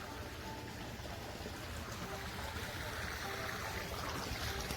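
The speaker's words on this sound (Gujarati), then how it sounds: "હવે પેલું પાણી ચાલે છે અહીં લગી" Irrigation water flowing steadily through a castor crop field, a continuous rushing and trickling wash that stays even and fairly close for the whole stretch, with no talk over it.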